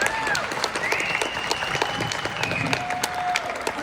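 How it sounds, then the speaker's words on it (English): A theater audience applauds Broadway performers with loud, continuous clapping, a few cheers and whistles rising above the crowd. "Let's give them a round of applause"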